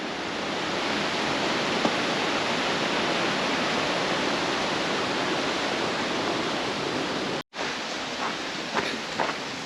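A creek flows through the spring woodland of Sunol Wilderness park, giving a steady, close rush of water that holds at an even level throughout, with a brief dropout near the end and no voices.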